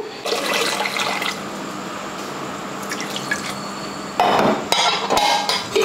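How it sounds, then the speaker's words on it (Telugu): Rice being washed in water in a home kitchen: dripping, swishing and clattering, fairly close, with a louder burst of sloshing and knocking near the end. "ఇంక ఈ లోపల బియ్యం కడిగి పెట్టేస్తాను"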